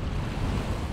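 Sea waves crash against a seaside terrace in strong wind, a loud, continuous roar of surf and gusting air buffeting the microphone up close.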